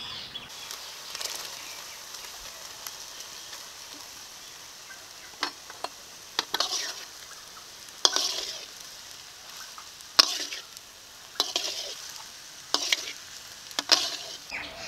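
Pasta goes into a sizzling pan and is stirred, a steady frying hiss with repeated scraping, clattering strokes of the spoon at irregular intervals, close by and without talk.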